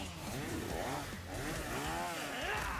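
A chainsaw-like engine whines and revs continuously, rising and falling in pitch over a steady rumble, loud and close.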